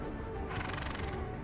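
A horse neighs and whinnies loudly and close by, a drawn-out call lasting over a second, outdoors in a snowy German winter landscape.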